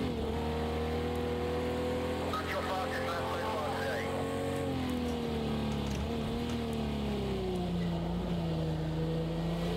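A Jaguar E-Type engine races in Project Cars 2 at Watkins Glen, loud and continuous, with its revving pitch rising and falling through gear changes and corners.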